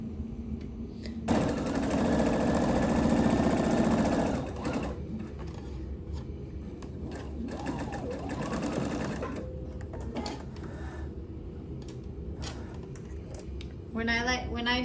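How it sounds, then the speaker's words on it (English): A sewing machine stitches darts on a skirt, running in a loud continuous burst early on, then quieter intermittent stitching and handling sounds follow, ending with a short fast run. "we're gonna sew the darts, and I'm just gonna mark those really quickly, and then I'll go sew them"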